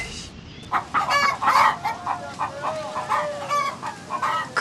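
Chickens cluck repeatedly in a farmyard scene from the Korean historical drama Chuno, with steady, fairly close, busy bursts of clucking and a crow-like call running throughout, and no talking.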